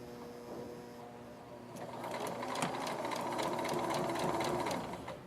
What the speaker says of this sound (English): Now we're going to begin sewing, staying along the 5/8 inch line.